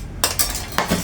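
A utensil scrapes and knocks through a peanut brittle batter mixed with ground kencur and lime leaves, three quick, close stirring strokes in a short burst with no talking.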